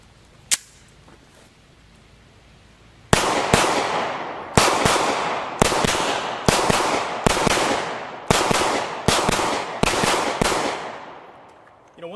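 A Steyr M9A1 pistol fires mixed ammunition on an outdoor range: one early shot, a pause, then about nine sharp, evenly spaced reports, each loud and close with a trailing echo.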